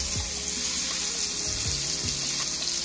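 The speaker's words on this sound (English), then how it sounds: "See how that is cooking in the pan." Salmon cakes made with fresh salmon fry in a pan with a steady, close, continuous sizzle, plus a few faint clinks and scrapes.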